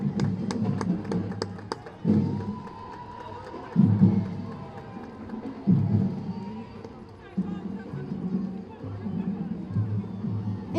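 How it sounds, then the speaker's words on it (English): Crowd applause and cheering for high school marching bands at an Independence Day parade in Arlington, 2023, rising in repeated swells over steady outdoor crowd noise, with an announcer's voice running over it. "Big round of applause for all of our high school marching bands."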